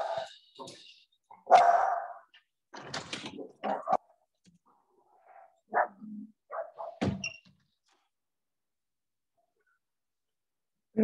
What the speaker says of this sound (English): Where would a yoga class be without my dogs barking at some stage, right?